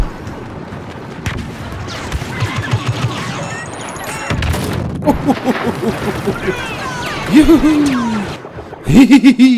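Blaster fire in the Star Wars Battlefront video game crackles in rapid bursts, mixed with explosions, electronic whines and in-game voices in a busy, loud battle.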